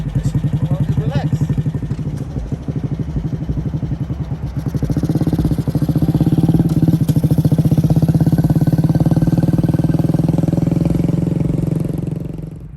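A 125cc SSR motorcycle engine runs nearby with a fast chugging idle that rises into louder, fuller revving midway, then holds steady before easing off, as voices talk at times.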